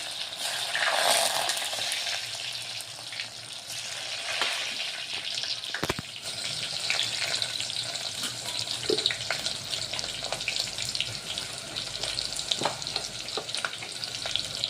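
Chopped onions fry in hot oil with a dense, continuous sizzle that swells as they hit the pan. Faint scrapes and taps of a spoon sound under the hiss, with no voice.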